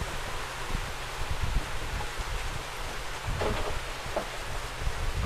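Steady rain pours down outdoors at a crab fattening farm, a dense, continuous wash of noise with faint low rumbles underneath and no voices.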